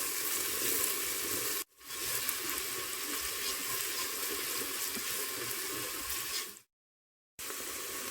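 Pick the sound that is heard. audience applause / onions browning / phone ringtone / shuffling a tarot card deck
onions browning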